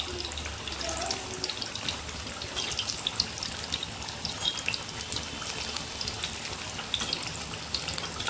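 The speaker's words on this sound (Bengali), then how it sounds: "মাছের বড়াগুলো এবার হালকা করে উল্টিয়ে নেব। এরকম করে ব্রাউন ব্রাউন করে ভেজে নেবেন।" Fish roe fritters frying in hot oil, a dense continuous crackling sizzle heard up close, with small pops throughout and no voices.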